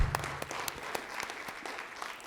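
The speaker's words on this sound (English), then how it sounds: "let's clap that up." Applause from an audience at a public hearing for SUNY Downstate: several seconds of scattered, moderately distant clapping that starts strong and tapers slightly, with no talk over it.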